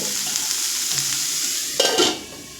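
Banana stem and potato pieces frying in oil over a low flame, giving a steady high hiss that swells into a louder burst of sizzling and scraping near the end, then fades.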